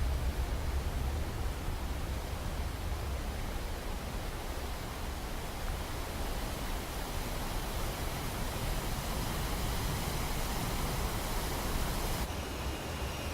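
Steady broadband rush of water pouring down from a lighthouse in Final Fantasy XII, a continuous dense roar like a waterfall running unbroken throughout, with no talk.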